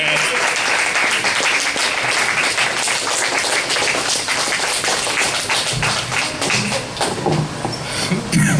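Sustained audience applause fills a small room after a storytelling performance, a dense steady wash of many hands clapping close by with scattered individual claps, continuing without pause and swelling slightly near the end.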